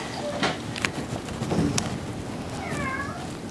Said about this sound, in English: The cat's gonna join me.